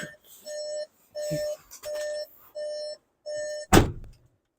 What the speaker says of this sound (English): Ignore the beeping, it's because I've left the key in the ignition.